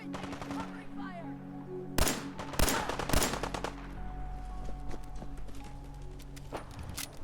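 Gunfire in the video game Fallout 4: three sharp, loud single shots spaced about half a second apart, each with a short crack, over a steady droning game ambience.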